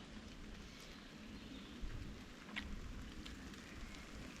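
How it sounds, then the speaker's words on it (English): A rain shower falls steadily outdoors at a woodland bushcraft camp, a soft continuous hiss of drops pattering on surfaces, faint and even throughout, with no voices. "this rain shower's picking up a little bit"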